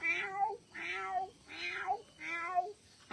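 A cat meows four times in a steady sequence of drawn-out, wavering cries, close and fairly loud, with short gaps between them and no talking.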